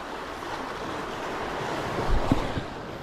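Sea waves wash against the big rocks of the Konkan shore in winter, a broad continuous rush with wind buffeting the microphone and a couple of heavier surges late on; no voices.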